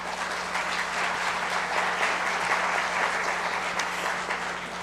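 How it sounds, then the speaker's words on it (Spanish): Steady applause from an audience at a formal panel and award ceremony on cybercrime and cybersecurity law, dense and even clapping that holds at a constant level throughout, with a low steady hum running beneath it. "Un aplauso, por favor."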